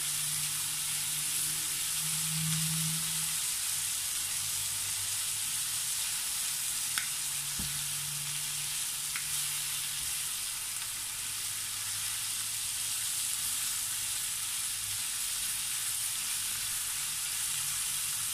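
Chicken afritada sizzles steadily in a pan as it is stirred, a dense continuous frying hiss with a few faint spoon scrapes and taps, and no voices.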